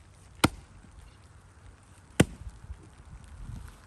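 Two sharp, loud axe strikes split twisted maple firewood, the skinny hickory-handled axe landing about two seconds apart over faint outdoor background noise.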